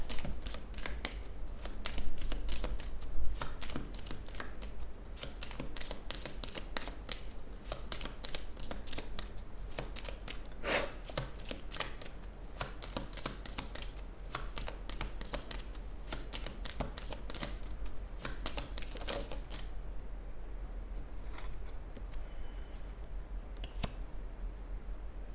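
A deck of cards shuffled for a card reading, a long run of rapid close riffling and flicking bursts for about twenty seconds, then quieter handling at the end, with no talking.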